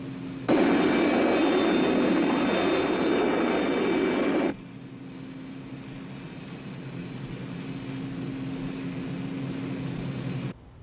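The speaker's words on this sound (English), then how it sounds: "keep your ears open for the sound of our jets" The roar of jet engines rises suddenly and loudly, then drops to a lower, steady rumble that carries on before cutting off.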